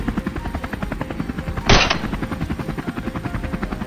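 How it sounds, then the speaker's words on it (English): A helicopter flying low during a hunt for wild boars, its rotor a steady loud chop with a fast pulsing rhythm, plus one brief harsh burst partway through. "We quickly maneuvered the helicopter into position"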